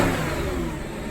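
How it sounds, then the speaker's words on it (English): Audi RS4 Avant engine revving, a brief mid-pitched rev that rises and then eases off, heard close and alone. "And just so you can have a listen to the engine."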